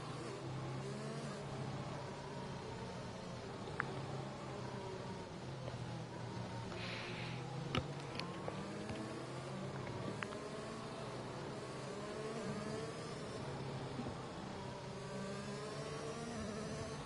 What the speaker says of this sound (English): As we hear some weird engine noises from Unbeaten Shine's McLaren.